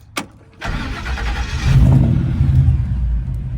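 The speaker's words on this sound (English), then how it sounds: "Fires right up. Sounds really healthy." A Coyote V8 engine in a 1964 Ford F100 truck cranks once, catches and settles into a loud, steady, deep idle, close by, with a slight rise in rumble partway through.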